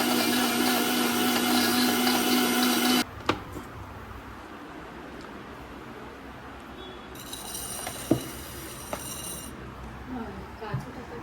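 A kitchen blender whirs loudly while mixing a full-fat milk drink, then cuts off abruptly after about three seconds, leaving quiet handling clicks and knocks.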